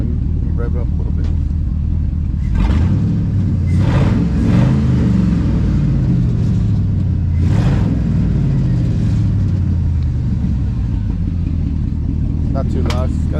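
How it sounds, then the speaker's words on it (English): A project car's engine revs up in several rising and falling bursts over a steady deep idle, loud and close, with a speaker's voice faintly present at times. "Let me rev it up a little bit."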